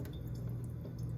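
Water swirling and sloshing in a container as cucumber seeds are rinsed, a steady low watery wash with faint tap-like trickle throughout.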